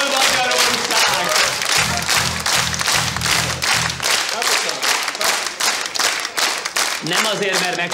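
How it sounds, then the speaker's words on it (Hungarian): Studio audience on a Hungarian television talk show applauding steadily throughout, dense and loud, with rhythmic clapping in time and a voice speaking over it briefly. "tapsol Magyarország!"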